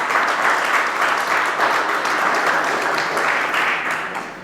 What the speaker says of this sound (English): Can we get a better round of applause for the custos?